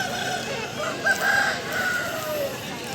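Chickens and roosters at a busy rural poultry market, clucking and calling up close with a brief crow-like cry amid a dense murmur of crowd noise.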